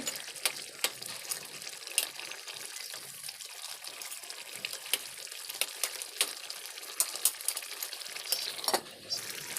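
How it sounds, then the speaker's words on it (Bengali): Tilapia fish pieces stir-fried in a spiced gravy for a kalia, a faint, steady sizzle broken by scattered light scrapes and clinks of stirring. "ঝোলগুলো ভালো ভালো করে মশলার সাথে কষিয়ে নেওয়া হচ্ছে"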